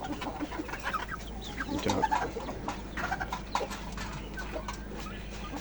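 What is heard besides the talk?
domestic hens clucking on a hobby farm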